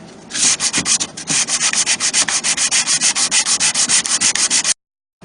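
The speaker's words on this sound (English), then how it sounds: "I'm using this sanding block because my belt sander won't fit into the tight space." Rapid, rhythmic scraping strokes of a sanding block on wood, loud and close, then sudden silence.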